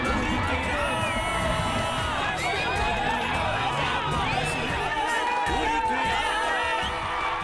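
A dense crowd cheers, whoops and shouts continuously at a roadside political road show in West Godavari, with a loud, close and unbroken wash of voices throughout.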